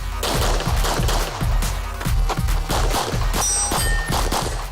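Rapid, dense strings of pistol-caliber carbine or production pistol shots ring out at a USPSA match stage, sharp loud cracks in quick rhythm with occasional metallic steel-target pings, continuous through the span.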